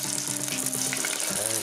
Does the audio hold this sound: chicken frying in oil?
yes